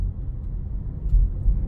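Low, steady engine rumble from inside a moving Mercedes-Benz GLC 220d diesel SUV, a diesel drone with slight surges, no talking.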